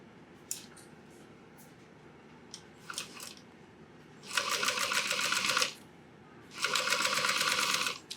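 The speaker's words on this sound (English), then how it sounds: "So just top stitch this right along" A domestic sewing machine top stitching fabric at a long stitch length, with two sustained bursts of rapid, even needle chatter separated by short pauses and light handling clicks, close and fairly loud.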